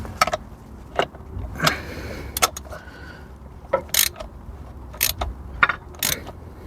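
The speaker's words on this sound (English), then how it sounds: "I heard a clank, a very distinctive clank." A VW Golf GTI engine being turned over in a workshop gives a series of irregular metallic clanks and ratcheting clicks over a low mechanical rumble, close and loud.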